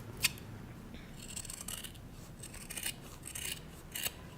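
Scissors snip through kurta fabric in a series of short, crisp cuts, close and quiet, with brief rasping strokes repeating every half second or so over a soft background hiss.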